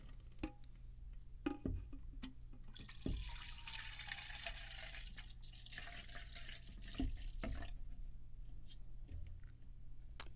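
Liquid for homemade hand sanitizer pours steadily into a container with a gurgling, hissing stream for several seconds, framed by faint clinks and handling taps.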